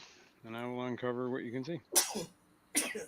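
A player sneezes twice at a tabletop role-playing game session, with two sharp, loud bursts about a second apart right after a stretch of talking.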